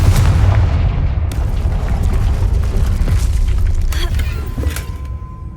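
Confringo explosive spell cast in the Hogwarts Legacy video game, a heavy booming blast with crackling debris and rumbling that stays loud for several seconds before tapering off.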